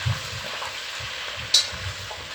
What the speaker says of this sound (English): I still have some more hamburgers, some more meatballs cooking over here. I'm gonna stir those up.